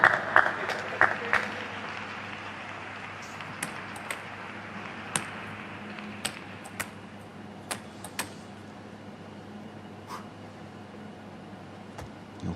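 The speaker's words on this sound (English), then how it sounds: "Grosskloff offering his applause there" Scattered audience applause at an Anton Kallberg vs Dimitrij Ovtcharov table tennis match, a soft patter of clapping in the hall punctuated by sharp ball pings and knocks.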